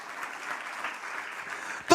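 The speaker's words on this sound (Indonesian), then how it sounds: "beri tepuk tangan lagi buat Tuhan ya" A church congregation at a worship service claps in a soft, even patter for a couple of seconds before a louder burst cuts in at the end.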